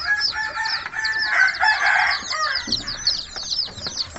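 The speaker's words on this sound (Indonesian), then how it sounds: "Ada kurang lebih 6 ekor ayam Brahma kita" About six Brahma chickens cluck and crow close by, a busy overlapping flock chorus with occasional wing flutters, no talking.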